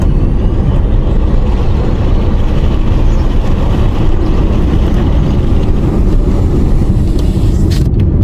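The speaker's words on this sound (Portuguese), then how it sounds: "Vou acelerar novamente para vocês verem." A JAC electric car accelerates, a steady, loud vehicle hum with low rumble and road noise throughout, rising slightly in intensity, with no talking.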